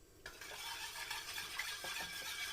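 A spoon stirs seasoning into freshly poured boiling water for a liver dish, a soft continuous swishing and scraping in a pot, faint and close, with no voices.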